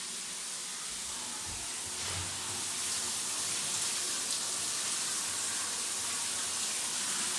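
Steady high-pressure spray from a Delta 3 and 6 setting diverter shower, with restrictors removed and switched between rainfall and traditional heads, a constant broadband hiss running close and even throughout with no talk.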